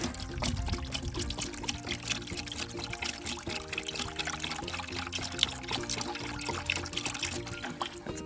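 Liquid fly bait mixture pours from a container into a barrel on a farm, a steady, close gurgling stream with splashing and trickling that runs unbroken throughout.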